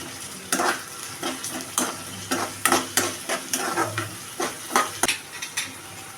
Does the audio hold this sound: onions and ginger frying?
yes